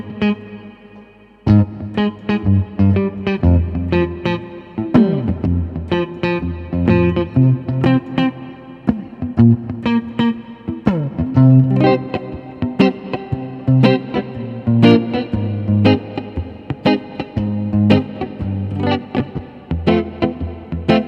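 An electric guitar plays rhythmic chords and riffs with a clean tone and a wash of reverb, continuous for about twenty seconds with no voices.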